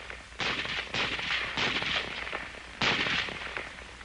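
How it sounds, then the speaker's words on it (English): Shots from an M1 Garand rifle ring out in a 1943 training setting, four sharp cracks spaced about half a second to a second apart, each trailing off in a short echo, with no talking. "one man firing a Garand can do nearly as much damage as 3 men using the old-type Springfield rifle"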